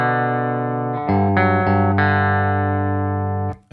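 An electric guitar played through an effects pedal, a few sustained, heavily processed notes and chords ringing loud and thick one after another, then cutting off abruptly at the end.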